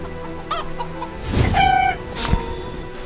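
Chickens cluck in the video game Divinity II, a short burst of close, loud fowl clucks with one sharper squawk near the end, over a steady game ambience and with no one speaking.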